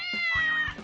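A pet cat gives a clear, close two-part meow, rising then falling, heard alone.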